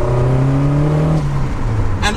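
A Lotus Esprit Turbo pulls in second gear from just above 3,000 rpm on an icy road, its engine drone rising steadily under turbo boost, heard loud from inside the car, then easing off near the end.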